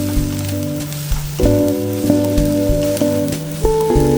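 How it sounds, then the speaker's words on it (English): Vegetables and crispy fried shrimp stir-fry in a pan with a steady, close sizzle and occasional stirring scrapes, partly masked by louder background music playing throughout. "Stir frying the vegetables for a minute and then going to add on the crispy fried shrimp"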